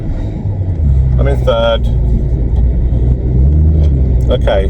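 A VW Vento's engine runs with a low, steady rumble while gears are shifted on a troubled gearbox, someone speaking briefly over the drone.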